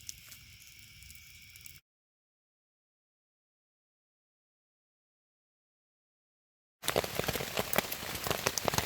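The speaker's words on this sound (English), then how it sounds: "Here comes that rain I was worried about." Heavy rain pours down in a steady hiss, cutting out briefly to silence before returning loud and dense, with no voices.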